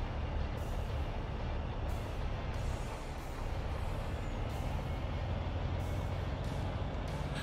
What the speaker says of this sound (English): we're putting this old Kenworth to work right now